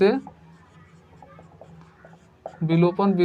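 Chalk or marker writing on a classroom board during a Class 10 maths lesson on solving equations, a light scratchy stroke sequence heard faintly under and between a teacher's speech.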